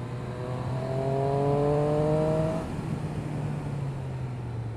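A 2017 Triumph Street Triple RS triple engine with an aero exhaust, ridden under tree cover, revs up in a rising, throaty drone. It then drops back to a steadier, lower hum, loud and close with no talk.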